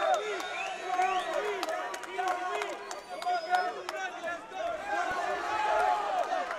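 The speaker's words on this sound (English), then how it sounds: "You can hear the crowd calling for the warrior, the Colombian warrior" A boxing arena crowd roars and chants for Colombian fighter Danny Chavez, a dense, loud wash of voices and shouts with a commentator talking over it.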